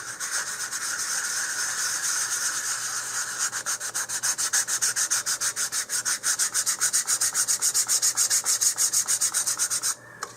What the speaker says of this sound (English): this sanding sealer does tend to clog up sandpaper fairly quickly